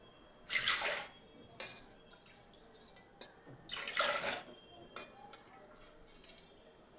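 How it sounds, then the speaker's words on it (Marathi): Water splashes and pours in two short bursts into a pot of lentils, with clinks of a bowl against metal between them, close and fairly quiet. "ज्या वाटीने डाळ घेतली त्याच वाटीने तीन वाट्या पाणी टाकते"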